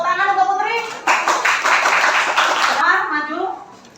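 Students in a school classroom clap briefly for a classmate, a short burst of many hands lasting under two seconds, with a teacher's voice talking just before and after.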